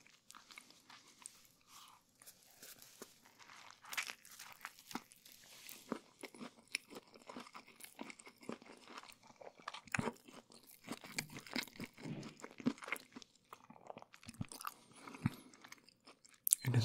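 Close, crisp crunching and wet chewing of a caramelized vegetable and fish burrito, with irregular bites and mastication sounds continuing steadily at low volume and no talking.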